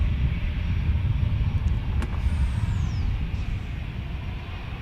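An airliner departs San Diego airport, its engines a steady, loud broadband roar that continues without letup beneath a high whine sweeping down in pitch.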